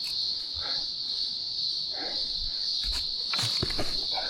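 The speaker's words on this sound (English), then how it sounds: "There's all the cicadas going absolutely as loudly as they can." A steady, loud, high-pitched cicada buzz drones continuously in Morton National Park, Australia, with faint rustling and scattered soft thumps beneath it.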